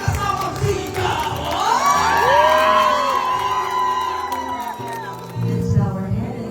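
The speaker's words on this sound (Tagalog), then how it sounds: "Palakpakan! Kasama sigaw!" Crowd at a birthday party breaking into loud cheering, whoops and children's shouts. The noise swells, then fades, and a second burst follows.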